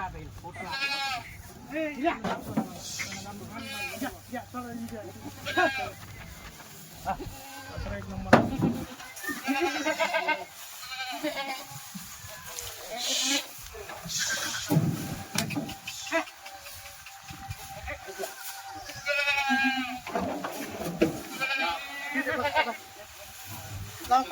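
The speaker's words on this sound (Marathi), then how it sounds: "मित्रांनो बघा दुधाच्या शेळ्या दिलेल्या आहेत, खाट्या शेळ्या दुधाच्या" Kathiawari dairy goats bleat repeatedly in a busy farmyard, some calls close and some farther off, mixed with constant background chatter and people talking.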